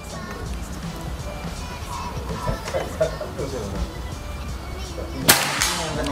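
A PCP air rifle, the Bocap FX Crown, fires a single sharp crack near the end during a long-range accuracy test, over a steady low background of murmuring voices.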